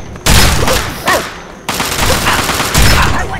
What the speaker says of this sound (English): Weapon, combat shotgun.